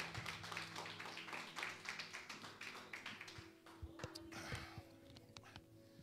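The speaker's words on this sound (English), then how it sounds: "Give God a round of applause while I take a drink." A church congregation claps in applause, a quick run of fairly quiet hand taps that thins out into a few scattered claps, with faint voices underneath.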